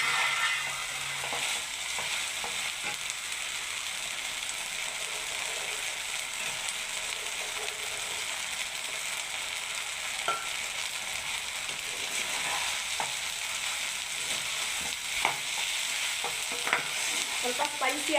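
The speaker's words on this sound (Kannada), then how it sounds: "ಈಗ ನಾವು ಕರ್ಕೊಂಡಿರುವಂಥ ಈ ಗೋಬಿಯನ್ನು ಈಗ ಇದಕ್ಕೆ ಹಾಕೋಣ." Fried cauliflower (gobi) is stirred into sauce in a pan for Gobi Manchurian, giving a steady close sizzle with intermittent scraping and clinking of the spoon against the pan, and no voices.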